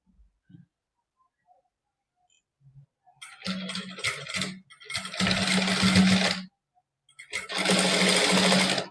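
A sewing machine stitches a princess-cut open back on a blouse in three loud bursts of rapid whirring after a few soft handling clicks, with short silences between runs.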